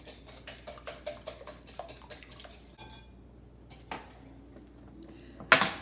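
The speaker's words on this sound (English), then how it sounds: "We'll give that just a quick whisk." A quick whisk of two eggs in a bowl, a brisk run of rhythmic metal clicks against the dish that stops, then a few scattered clinks and one sharp knock at the end, quiet and close.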